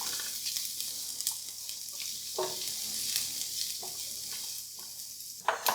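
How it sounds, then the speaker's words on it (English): Garlic sautéing in a USELUCK Pix ceramic nonstick pan, a soft continuous sizzle with a few stirring knocks and scrapes near the end, close but fairly quiet, with no talking. "Saute that around. Bloom the garlic."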